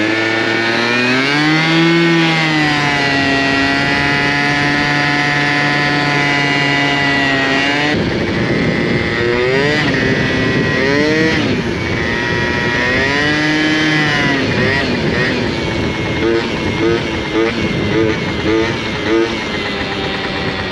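A 70cc Zuma scooter engine with a Stage 6 MK2 cylinder, running a touch lean, revs loudly and steadily up close, its pitch rising and falling through repeated throttle blips, with some faint talk underneath.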